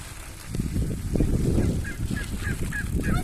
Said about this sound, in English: Get welcomed home by the turkeys.